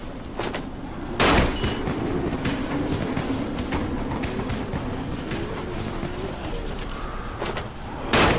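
Sharp explosive pops of firecrackers burst out near the start and again near the end, over a steady rumbling Dying Light game soundscape with no talking.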